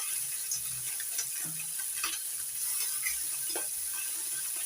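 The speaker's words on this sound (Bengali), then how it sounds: "টকের মাছ বেশি ভাজতে নেই হালকা করে ভেজে নেবো" Morola fish fried lightly in oil in a pan for a tamarind sour dish, giving a quiet, steady sizzle with scattered soft stirring and scraping clicks. No one speaks.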